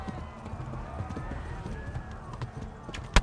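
A horse gallops in the medieval game Kingdom Come: Deliverance, with quick, steady hoofbeats and game ambience throughout, ending in a sharp impact.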